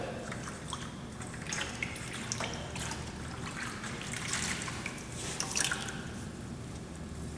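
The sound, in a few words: wet rag cooling hot brazed metal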